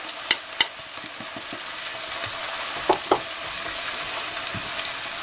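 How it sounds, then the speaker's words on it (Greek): Two finely chopped onions hitting hot juices in a pan, a continuous close sizzle with a few sharp clanks of a utensil stirring. "Στο ίδιο ζουμάκι θα βάλουμε 2 κρεμμύδια ψιλοκομμένα"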